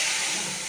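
Paste of ground mustard, green chili, salt and turmeric hitting hot oil in a pan, a loud, close burst of hissing sizzle that holds steady for under a second.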